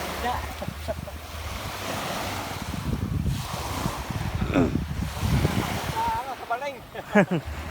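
Sea waves washing in with gusting wind buffeting the microphone, a boat or motor faintly underneath and some distant voices of fishermen toward the end.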